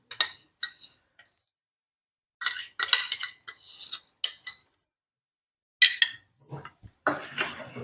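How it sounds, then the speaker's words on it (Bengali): Metal spoon clinks and scrapes against a pan while yogurt is stirred into cooked spices for a cauliflower rezala, in sparse separate bursts with short pauses between. "দইটা দিয়ে আরো 2-3 মিনিট একটু নেড়ে চেড়ে নেব।"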